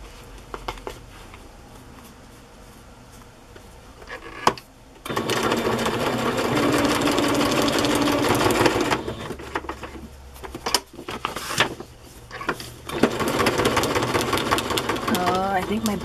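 A sewing machine stitches stacked pockets for a cookbook journal. Several bursts of steady mechanical whirring are set apart by pauses, with a long run in the middle. Speech comes in between the runs.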